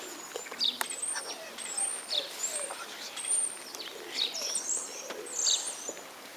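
Outdoor birdsong with scattered chirps and calls, a wood pigeon's soft cooing among them, over a constant hiss of ambient noise.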